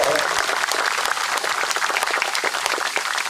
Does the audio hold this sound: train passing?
no